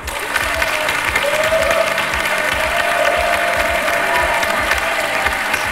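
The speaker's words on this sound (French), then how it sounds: "Applaudissements." A French television studio audience applauds steadily and loudly, a dense wash of clapping that continues throughout with no one speaking.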